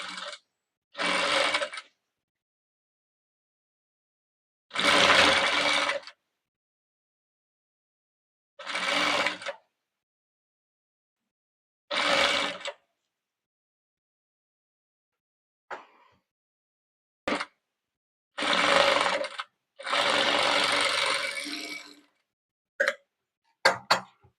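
A sewing machine stitching a nighty runs in short, loud, close bursts of rapid whirring separated by silent pauses, with a few brief clicks between the runs.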